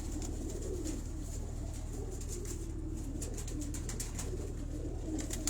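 Pigeons cooing at a farm house, a steady low murmur of soft coos running continuously throughout, fairly close with a constant hum beneath and no talking.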